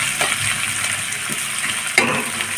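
Green chilli, ginger and garlic paste frying in hot oil, a close dense sizzle with a couple of soft utensil taps and a brief louder splash of spattering near the end.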